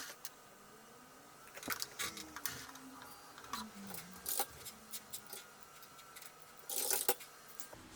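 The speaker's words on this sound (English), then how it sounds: "Let's restart the printer." An inkjet printer restarting runs through its startup cycle with scattered mechanical clicks, ticks and short whirring bursts, quiet and close, with no voices.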